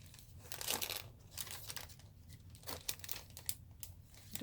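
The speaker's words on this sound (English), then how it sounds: "Let me grab a piece of paper." A sheet of paper being picked up and handled, crinkling and rustling close by in a string of irregular crackly bursts with no talk.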